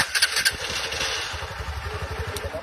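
A 1997 Honda Today motorcycle with an oil-leaking engine is kick-started, giving a few rough pops before it settles into a rapid, uneven putter at close range.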